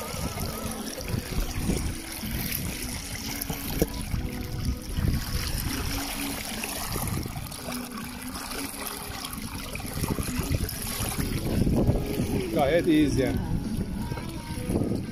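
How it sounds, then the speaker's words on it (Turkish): Water lapping and trickling against a pedal-driven boat moving near Paşalimanı island, with wind noise and a low rumble throughout, while someone talks briefly over it. "Sadece su sesi ve rüzgar sesi."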